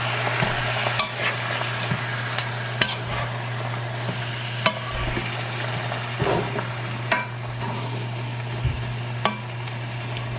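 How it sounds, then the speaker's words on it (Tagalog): Pork asado is stirred in a sizzling pan, a spoon scraping and clinking at irregular intervals over a constant close frying hiss, with no voices. "I-mix na natin."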